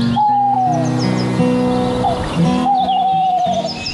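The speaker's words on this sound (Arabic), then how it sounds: "البوم الثلجي" A snowy owl hoots repeatedly in a cold, snow-covered wild habitat. The calls are clear and sustained over a steady background, with no voices present.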